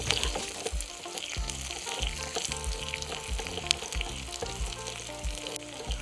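Onion, garlic cloves and small shallots fry in hot oil with a steady, close crackling sizzle and occasional spoon scrapes across the pan, no voices heard.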